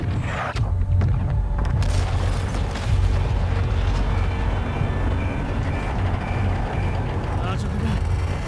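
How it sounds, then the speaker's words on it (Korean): An explosion sounds in the Call of Duty: Modern Warfare II campaign, with deep rumbling booms and a heavy mechanical roar that sustains loudly. A soldier's voice speaks over it, mixed into the game audio. "전대원, 폭발에 대비하라."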